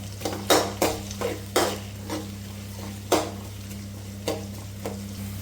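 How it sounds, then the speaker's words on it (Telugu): Onions frying in a pan for Rayalaseema borugula uggani, a series of sharp metallic scrapes and clanks from a spoon stirring against the pan over a low steady hum and a faint sizzle. "ఆనియన్స్ లైట్ బ్రౌన్ కలర్ రావాలి, అంతవరకు వేయించుకోవాలి."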